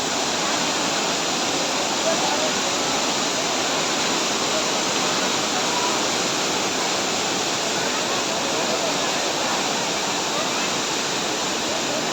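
A strongly rushing stream roars in a dense, steady wash of water noise, loud and unbroken throughout, heard close during a walk on a Diwali outing.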